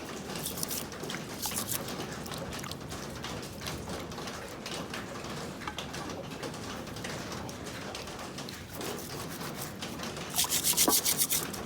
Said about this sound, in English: I'm going to be washing this dried asa fish just to ensure that we do not have fine sand particles in it.